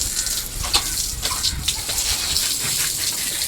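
Water gushes loudly and steadily from a hose pipe as a calf is washed, a continuous rushing spray with small splashing variations throughout and no talking.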